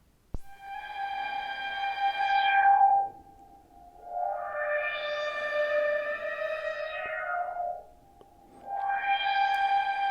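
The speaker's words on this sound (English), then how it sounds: "by riding that filter, we can more easily hear how the Model D is affecting the sound" A Behringer Model D synthesizer processes incoming audio while its filter cutoff is swept up and down, giving a harmonic tone that repeatedly brightens and darkens in three slow sweeps, with no talking.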